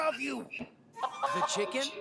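A chicken clucks in the LEGO Ninjago video game, a few short throaty clucks and squawks mixed with game voices and bursts of speech-like sound, fairly close and moderately loud.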